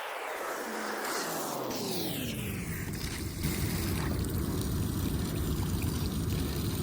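Compressed air blows leftover water out of an inground lawn sprinkler line, a hissing, gushing rush of spray and air that starts with a falling whoosh and settles into a steady, noisy sputtering stream.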